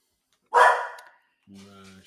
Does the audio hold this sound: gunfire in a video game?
no